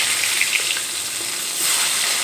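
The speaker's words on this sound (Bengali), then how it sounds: "দেখো এখানে মাছের এক সাইড ভাজা হয়ে গেছে এবার এগুলো আমি খুব সাবধানে উল্টে দেবো" Pieces of rohu fish frying in a pan of oil, cooked for a papaya and potato curry, give a steady close hiss of sizzling that swells a little near the end, with no talking.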